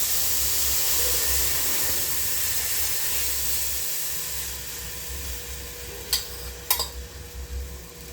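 A squeezed mixture sizzles in hot ghee, a steady broad frying hiss throughout with faint stirring, a few louder scrapes and clinks toward the end.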